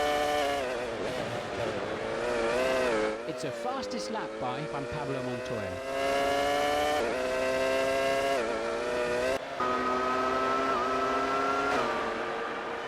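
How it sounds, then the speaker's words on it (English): Honda-engined Formula 1 race cars in the F1 2002 video game scream past, their high engine whine rising and dropping with gear changes and passes, while a commentator talks over it. "The Honda engine cars sound pretty good."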